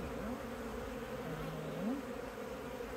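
Honey bees hum in a continuous, close drone during a spring hive inspection, with a couple of individual bees whining past in brief rising tones.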